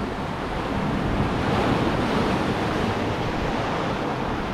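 Sea waves surge and wash over coastal rocks at Ap Lei Chau, Hong Kong, a steady loud roar of churning surf with wind buffeting the microphone throughout.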